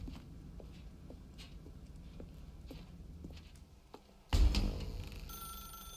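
A telephone rings suddenly and loudly in The Stanley Parable: Ultra Deluxe, its bright ringing cutting in over a quieter background of soft footstep-like thumps.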